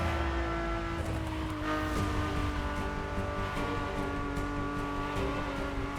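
A race car engine in The Crew Motorfest revs and roars steadily from an interior perspective, loud and continuous with harmonic drone throughout, no talk.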